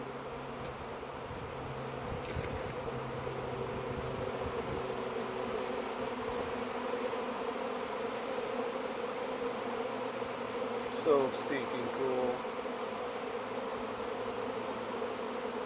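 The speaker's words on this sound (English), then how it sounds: "oh my gosh, there's so many bees" A honey bee swarm drones steadily in a back yard, a dense continuous buzz of many insects with occasional closer individual passes, while a person briefly speaks over it.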